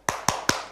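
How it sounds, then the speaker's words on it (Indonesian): Three sharp, evenly spaced group claps from a classroom 'tepuk semangat' spirit-clapping routine, each crisp and close, with a short ringing decay and no talking. "kita tepuk semangat dulu ya"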